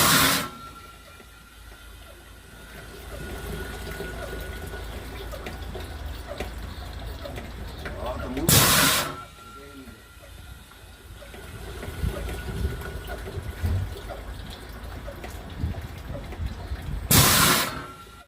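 Dedicated cleaning equipment washes a removed Grand Starex muffler with water, a continuous spraying, gushing wash with two brief loud bursts of rushing water, no voices.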